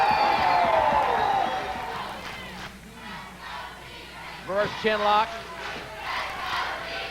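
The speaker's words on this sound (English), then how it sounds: "Here the crowd getting solid behind the challenger" A televised pro wrestling crowd roars behind the challenger during a title match, a loud wash of cheering that fades under a commentator's voice, with a few whoops rising later.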